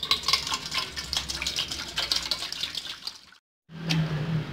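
A spoon stirs vinegar and baking soda in a bucket, a close wet swishing and fizzing that runs steadily, breaks off into a brief silence, then starts again.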